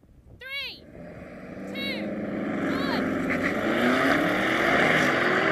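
An SUV engine at a drag race start swells into a steadily rising roar as it accelerates, while voices call out briefly at the beginning.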